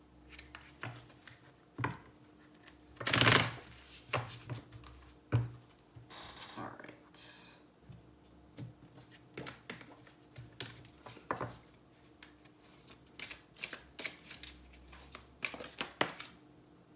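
Tarot card deck being shuffled close up, irregular bursts of slapping and riffling cards with a few louder snaps, while a person talks at times.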